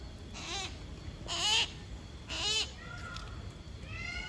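Tawny-browed owl calls at a raptor enclosure holding several owls and hawks, heard as three rising, warbling hoots spaced about a second apart at moderate distance, with faint bird chirps trailing after them.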